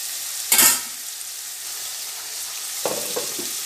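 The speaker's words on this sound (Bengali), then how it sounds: "এবার মাছটা দিয়ে ভালো করে নাড়িয়ে আর একটু ঢাকা দিয়ে দেবো" Katla fish curry with potato and pointed gourd sizzles steadily in a pan, and stirring strokes break through as louder scraping bursts near the start and again toward the end.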